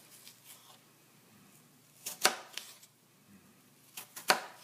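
A knife slices through apples for a homemade apple pie. Two crisp, quiet cuts stand out against soft handling noise in a hushed kitchen.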